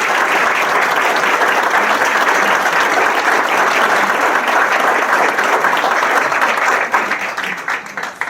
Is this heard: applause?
yes